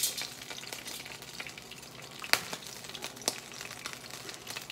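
Salmon fries in butter in a skillet with a quiet, steady sizzle and scattered pops, including a sharp crackle mid-way and another soon after, with no voices.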